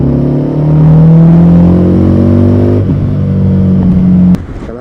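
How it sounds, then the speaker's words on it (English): A Harley-Davidson Street 750 with its stock exhaust, ridden on the road, holds a loud, steady engine drone that rises in pitch as it pulls through a gear, then a sharp shift and a drop in level near the end. "we'll see how the Harley sounds like. This is the stock exhaust,"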